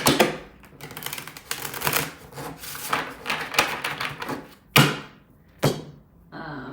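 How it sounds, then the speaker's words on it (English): Cards are shuffled by hand in a rapid rustling riffle, followed by a couple of sharp snaps as the deck is squared up. "I'll just shuffle it and clear it so that it's ready"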